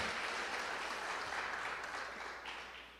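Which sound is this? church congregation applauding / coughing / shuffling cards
church congregation applauding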